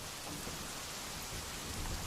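A storm in Bombay, with dense, steady rain roaring close and loud and a low rumble of thunder underneath, with no talk.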